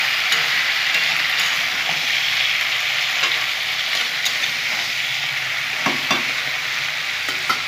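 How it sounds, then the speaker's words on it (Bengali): Tomatoes and vegetables stirred and fried in a pan, a loud, steady sizzle running throughout with scattered clicks and scrapes of the stirring utensil, no voices. "এখন আমি টমেটোগুলো দিয়ে দেবো এই পর্যায়ে। আর একটু নেড়ে চেড়ে নেবো।"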